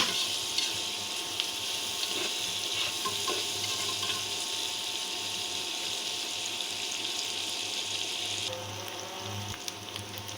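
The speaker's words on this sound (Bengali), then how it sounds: "এখন খুব ভালো করে পেঁয়াজ রসুনের সাথে লোকটার সবজিগুলো ভেজে নিতে হবে একটু লাল লাল করে ভাজতে হবে" Vegetables fry with onion and garlic alongside dried fish, a loud continuous sizzle with occasional stirring scrapes, easing slightly near the end.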